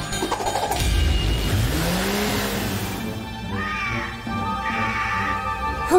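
A cartoon cat meows in short rising-and-falling cries over a busy cartoon soundtrack with engine-like revving in the background, loud and close.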